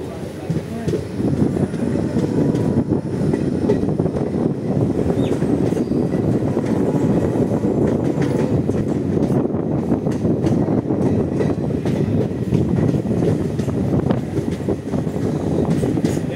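Train travelling on the rails from Paramakudi toward Madurai Junction, heard from inside a carriage as a steady, loud low rumble with wind noise that holds evenly throughout, no distinct clacks standing out.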